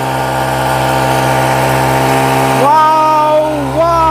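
A motorcycle engine with a large balloon fitted over its silencer drones loudly and close, holding a steady buzzing pitch before the revs rise and dip in short swells.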